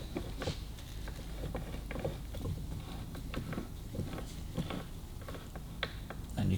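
Harley gearbox kickstart shaft and gears being turned by hand on the bench: soft, quiet clicking and ratcheting ticks of metal gears at an uneven rhythm, close up.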